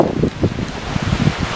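Gusty wind blows outdoors by the sea on a sunny March day, a rough buffeting rumble hitting the microphone in irregular low bursts.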